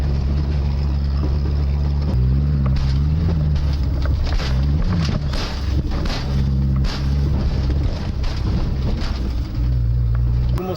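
Peugeot 505 crossing desert sand dunes at around 40 km/h, a loud, continuous low engine drone with shifting pitch, jolting thumps and wind buffeting, shaking the car throughout.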